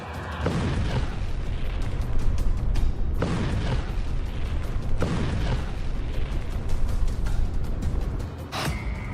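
A Ukrainian Neptune anti-ship missile strikes a warship, giving a heavy, continuous rumbling roar broken by several deep booming bursts, loud and sustained throughout with no voices.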